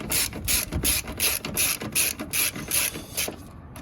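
A hand ratchet clicks in quick repeated bursts while tightening bolts during a starter motor replacement on a 2008–2015 Toyota Avensis T270 2.0 D4D, about eight close, loud, evenly spaced strokes of bright metallic pawl clatter.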